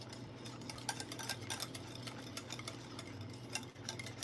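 A whisk beats Caesar salad dressing in a bowl, making quiet, rapid ticking clicks against the sides throughout.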